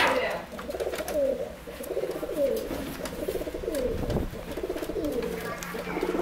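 Silver pigeons coo repeatedly in a coop, soft rolling throaty calls overlapping in a steady rhythm at close range, with a low background hum and a brief thump partway through.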